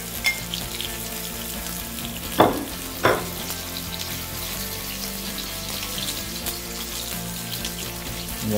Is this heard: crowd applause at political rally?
no